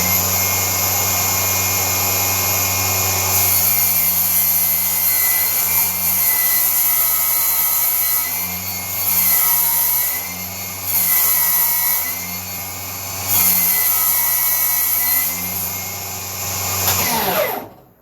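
A Milwaukee M18 Fuel saw cutting an old test board on an outfeed table, a loud steady high whine held for most of the cut before spinning down abruptly at the end.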